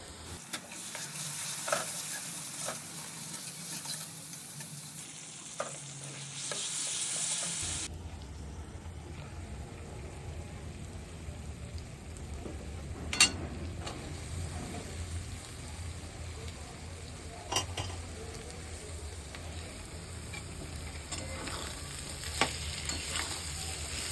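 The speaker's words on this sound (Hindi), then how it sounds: "राजमा यहाँ भुना हो चुका है" Kidney beans (rajma) roasting and being stirred in a pan, giving a steady sizzle with scattered sharp scrapes and clinks of stirring, close and moderately loud, with no talking.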